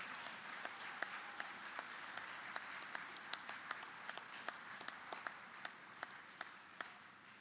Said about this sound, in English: Please turn and applaud your families, your friends, your loved ones, and show your appreciation for their support.